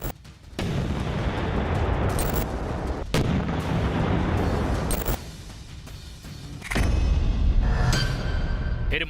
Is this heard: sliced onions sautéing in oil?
no